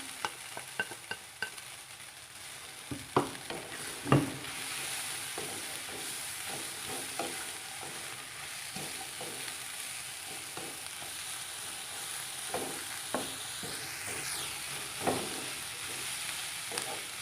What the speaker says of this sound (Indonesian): Kemudian saya masukkan sayurnya.